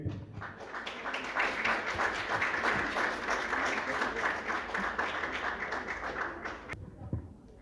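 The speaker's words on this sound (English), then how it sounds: "Round of applause." A ceremony audience breaks into steady, dense applause, sustained and fairly loud for several seconds before tapering off abruptly near the end, with a faint thump as it fades.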